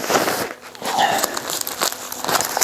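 A silver emergency sleeping sack shelter crinkles and rustles as it is handled close by, its material crunching in irregular bursts, with a voice heard faintly in between.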